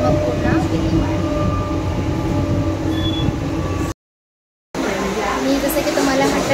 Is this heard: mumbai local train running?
yes